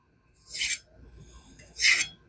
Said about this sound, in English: I'm just going to do a quick sharpening